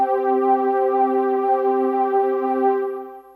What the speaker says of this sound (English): I've selected the warm pad patch,